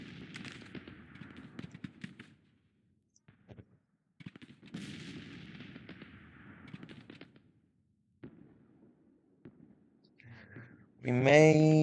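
Artillery batteries in Grand Tactician Civil War, a game battle, firing in bursts of booms and crackling shots separated by quiet gaps, closing on a loud sustained tone.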